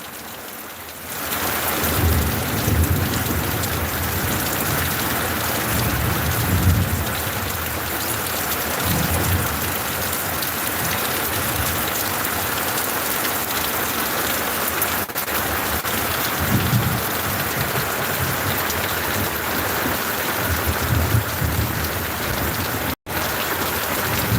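Heavy rain pours down steadily while low rumbles of thunder roll through, loud and close throughout.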